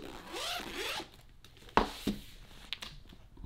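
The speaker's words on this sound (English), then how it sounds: "if you open it up with this neat little colored zipper here" A small colored zipper on a faux leather spell book binder is opened with a quiet, close zip, followed by a few soft clicks and rustles.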